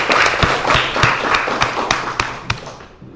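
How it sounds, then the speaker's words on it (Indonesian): Group of people applauding at the close of a teaching session, sharp hand claps standing out over a dense wash of clapping that gradually thins and fades. "tepuk tangan untuk kita semuanya"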